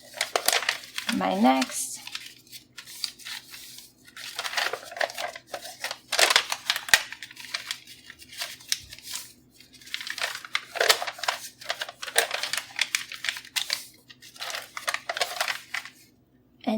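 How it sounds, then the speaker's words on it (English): A paper square is folded into precise creased lines, with soft crinkling, sliding and sharp creasing snaps scattered through the stretch under a brief spoken phrase. "I'm going to fold my first line here"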